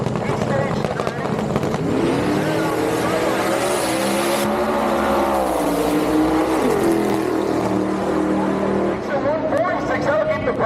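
Supercharged 1941 Willys drag car launching at a drag strip, a loud continuous roaring engine note that climbs in pitch mid-run over crowd noise and announcer-style talk.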